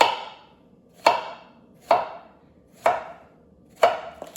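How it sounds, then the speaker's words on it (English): Four crisp knife chops through summer squash slices on a cutting board, evenly spaced about a second apart, each a sharp close thud with a short ringing tail, no talking. "Then we want to cut the summer squash into like maybe 1/4 inch thick pieces"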